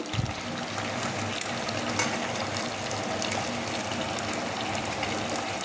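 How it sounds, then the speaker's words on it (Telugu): Water runs and splashes steadily into a pot of country chicken curry, a continuous wash of liquid with a few small clinks. "సూప్ ఎక్కువ కావాలి కాబట్టి మనము కొంచెం వాటర్ కూడా యాడ్ చేసుకున్నాము"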